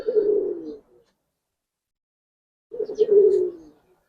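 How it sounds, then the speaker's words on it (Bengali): Two separate bursts of soft, throaty cooing from a young black-necked pair of Giribaz highflyer pigeons, close by, with a silent gap between the calls. "কালো গলা একটা পেয়ার ভাই, একদম ডাইরেক্ট উঠতি কবুতর।"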